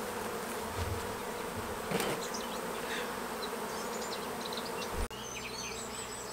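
A swarm of honeybees buzzes around a hive as it is moved into a full-sized box. The close, continuous droning hum is broken once by a short knock near the end.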